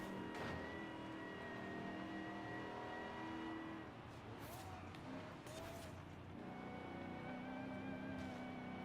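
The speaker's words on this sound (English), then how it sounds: "It sounds like an electric car revving." Ferrari in Forza Horizon 5 revving with a whiny, electric-motor-like tone over an engine rumble, rising and falling in several quick bursts, while a person talks over it.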